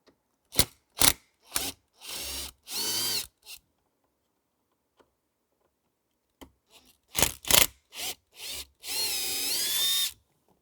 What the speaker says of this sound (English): I'm gonna go to my favorite drill and just take it a bit faster